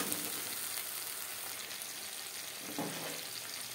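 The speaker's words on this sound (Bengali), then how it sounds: "টমেটোর সাথে আদা ও কাঁচা লঙ্কা বেশ ভালো করে মিক্সড করে দেবো" Tomato, ginger and green chilli being mixed in a frying pan give a steady, close sizzle of frying, with a brief soft stirring scrape near the end.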